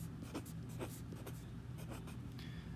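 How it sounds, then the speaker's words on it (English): A pen scratches across paper in short strokes while a free body diagram for a physics problem is drawn, close and quiet, with no talking. "And so I decided to draw a free body diagram."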